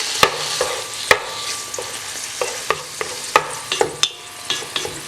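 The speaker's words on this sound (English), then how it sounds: "Give that a wee stir." Minced beef fries in a rock pot, a constant sizzle punctuated by sharp, irregular scrapes and knocks of a utensil stirring the meat, close and clear.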